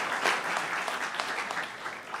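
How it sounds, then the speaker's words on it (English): Applause from a church performance audience, a steady dense wash of clapping filling the whole short stretch at a moderate level, with no voices over it. "Now you can applaud."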